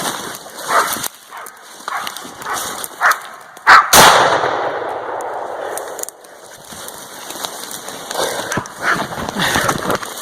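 A single sharp, loud gunshot-like crack rings out midway during deer hunting in Texas, followed by a lingering echo, with quieter outdoor rustling and faint activity around it.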